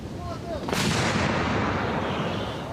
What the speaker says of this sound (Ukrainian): Хлопці зарядили гармату, навелися на ціль і готові стріляти. Гармата, постріл!